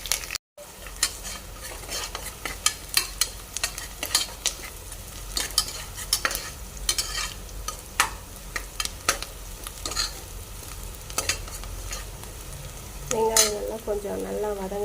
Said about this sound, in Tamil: ஒரு குக்கரில் எண்ணெய் கடுகு போட்டு தாளித்து வெங்காயம் போட்டுடணும்